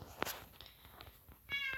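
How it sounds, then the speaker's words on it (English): A very vocal house cat gives loud, close meows, one sharp cry near the start and a longer harmonic meow at the end, with soft rustling between. "that's why he's meowing so much, and his meows are loud"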